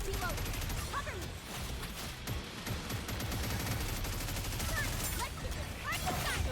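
Rapid bursts of automatic gunfire and volleys rattle through a battle in the video game Goddess of Victory, layered under voices and game sound.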